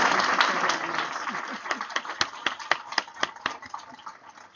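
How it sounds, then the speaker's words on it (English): An online book club audience applauds Dr. Sampson Davis. A dense burst of clapping thins into a few scattered, distinct single claps that ring out one after another. "join me once again, a huge round of applause for Dr."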